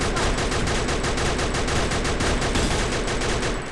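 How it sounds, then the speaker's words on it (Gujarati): Rapid automatic gunfire roars in the mobile shooter Free Fire, a loud, sustained stream of closely spaced shots that barely lets up before trailing off at the very end, with no talk over it. "ફોડું છું બ્રો"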